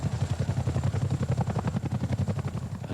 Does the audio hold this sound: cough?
no